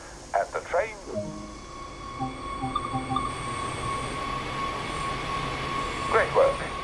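A Talent 2 electric multiple unit pulls away in Train Sim World, a steady low rail rumble and motor hum with soft tonal whines, punctuated by brief clicks and chimes at the start and end.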